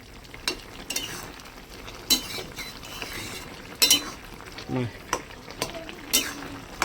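A mixed vegetarian vegetable curry is stirred in a pan with a metal spoon. Repeated close scrapes and clinks come at an uneven pace over a soft frying sizzle.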